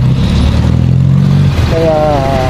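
A Yamaha N-Max scooter on the road gives a steady, loud low engine drone while riding, and a person speaks briefly over the hum near the end.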